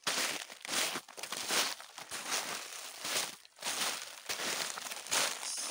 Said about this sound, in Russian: Снег под ногами очень классно шуршит, скрипит.